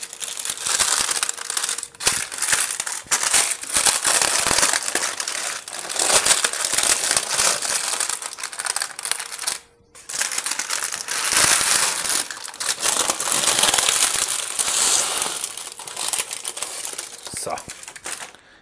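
Baking paper crinkles and crackles loudly and continuously as a freshly baked Quarkzopf braided bread is lifted from its tin and peeled off the paper, with a brief pause midway.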